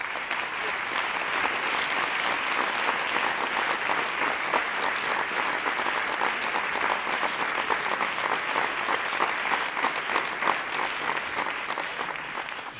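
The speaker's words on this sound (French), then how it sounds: "merci de les applaudir" Sustained, dense audience applause fills an awards ceremony hall for musical theatre, loud and steady throughout with many hands clapping at once and no talk over it.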